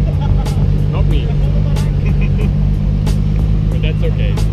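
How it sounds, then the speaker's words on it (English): A Fisker car at a car meet gives out a loud, steady exhaust note, close by and continuous, with voices talking over it and brief sharp noises scattered throughout. "Listen to this sound. Can't you just listen to this exhaust or sleep to this exhaust note?"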